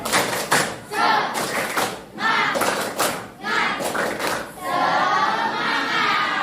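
Students in a classroom perform a rhythmic spirit clap: bursts of group clapping in a set pattern with short pauses, then a sustained wash of young voices cheering at the end.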